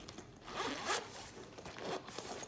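A gold metal zipper is pulled open along a fabric toiletry bag, a quiet, close, continuous ratcheting slide with a couple of brief tugs, no one talking.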